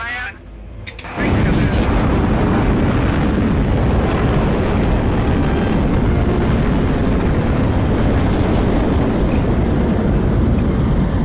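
The Explorer One rocket launches with a sudden, massive rumbling roar that kicks in after a brief quieter moment and then holds steady and loud for about ten seconds.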